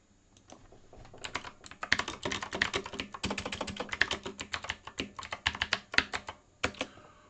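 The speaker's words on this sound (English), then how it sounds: "Let me type that out." Fast typing on a computer keyboard, with dense irregular clacking keystrokes close up and short pauses between bursts, no voices.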